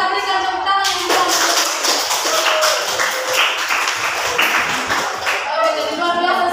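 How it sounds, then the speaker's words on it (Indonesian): Classroom applause from a group of middle school students, a dense burst of clapping that swells after a moment and carries on steadily for several seconds before tapering, with voices mixed in. "mari kita berikan tepuk tangan yang meriah."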